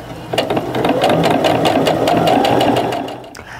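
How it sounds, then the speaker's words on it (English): A sewing machine stitches a seam down the side of fat-quarter quilting fabric, with a steady, fast mechanical whirr and rhythmic needle clatter running close and loud for about three seconds before stopping. "And now we're going to sew down the other side."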